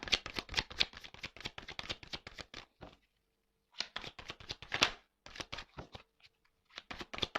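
Tarot cards are cut and riffled by hand in rapid crisp flutters, with a brief pause before the shuffling resumes in further close, clear bursts, with no talking.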